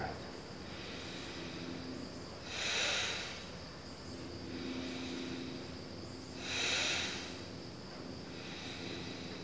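Two slow, airy exhales during yoga pranayama breathing, each a soft breathy swell lasting about a second, close but quiet over a low steady background hum.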